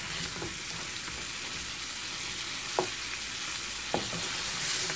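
Crispy chicken wings mixed into buffalo sauce in a hot pan, a steady soft sizzle with a few distinct knocks of a utensil against the pan.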